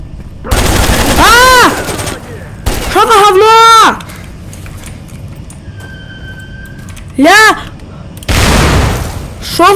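Automatic weapon fire in S.T.A.L.K.E.R. comes in several loud rattling bursts, mixed with a voice that rises and falls through them.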